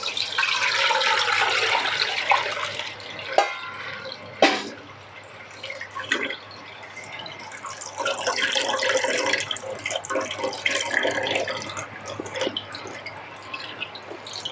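Brown soaked tamarind water drains and trickles through a strainer while making Pad Thai from scratch, a steady close splashing pour with a couple of sharp knocks midway and no talking.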